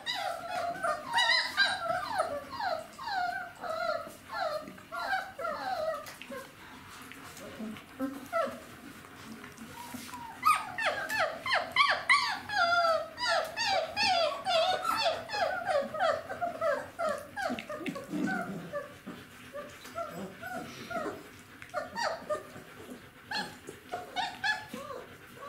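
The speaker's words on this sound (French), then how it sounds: "on a aussi surtout beaucoup de bagarres entre les chiots" Several Czechoslovakian wolfdog puppies yip, whine and growl in a busy, overlapping play-fight, with high squeaky yelps and short barks close by, continuing throughout.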